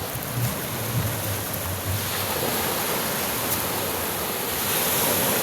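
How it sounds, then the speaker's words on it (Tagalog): Strong rushing water roars steadily and close by in a flooded spot, a dense broadband wash with low rumbling surges and no voices. "Lakas talaga ang tubig dito. Pag unos na tubig, malakas."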